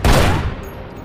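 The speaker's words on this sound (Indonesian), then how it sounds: "Dia pun akhirnya ditembak dengan pistol miliknya." A pistol shot from a film scene cracks out loudly up close, one sharp blast followed by a short ringing decay.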